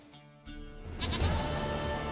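A goat in The Witcher 3 bleating, a quiet start before a loud, wavering bleat swells in and holds to the end, close and clear.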